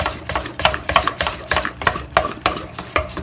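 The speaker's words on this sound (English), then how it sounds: "we have to beat this besan and yogurt together for few minutes" A whisk beats besan (gram flour) and yogurt together in a bowl at close range, producing rapid, regular scraping and tapping strokes that repeat about three times a second.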